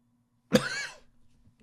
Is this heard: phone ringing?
no